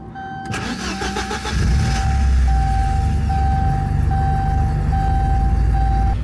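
A Porsche 944 engine cranks and catches with a dense mechanical clatter, then settles into a steady, close, loud idle that runs on alone, with a thin tone whistling above it.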